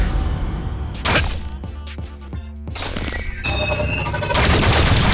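Rapid bursts of gunfire from the Smash Legends video game, a dense volley of cracking shots with mechanical clatter and a bright ringing tail, loud and continuous across the clip.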